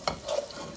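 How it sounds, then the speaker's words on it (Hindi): Garlic fries in oil in a pan, giving a soft, close sizzle with light stirring scrapes. "उसमें जाएगा गार्लिक। और ऑयल को थोड़ा सा भून लें, मिनट 2 मिनट के लिए"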